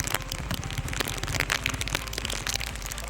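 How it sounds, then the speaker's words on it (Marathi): A torrential monsoon downpour falls in Mahad, Raigad district, heard as a loud, continuous broadband hiss with scattered drop crackles over a low steady rumble, and no voices. "खतरनाक धुवाधार पाऊस पडतोय महाडमध्ये, रायगड डिस्ट्रिक्टमध्ये"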